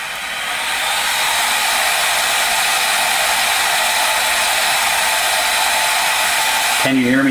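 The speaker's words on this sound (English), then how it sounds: "Can you hear me talking, or do you hear the fan?" An AMD 290X graphics card cooling fan spinning at full 100% speed gives a loud, steady, broadband whoosh like a hair dryer, starting with a brief ramp-up and then holding constant. A voice enters faintly at the very end.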